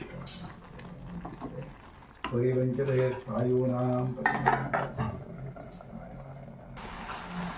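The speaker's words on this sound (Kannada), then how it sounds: "ಈಗ ಒಂದ್ಸರಿ ಮಿಕ್ಸ್ ಮಾಡಿ ಒಂದು ಐದು ನಿಮಿಷ ಹಂಗೆ ಕುದಿಯಕ್ಕೆ" Brinjal palya is stirred in a pan with a utensil, giving a few scraping, clattering strokes against the metal over a quiet kitchen background, with no talk.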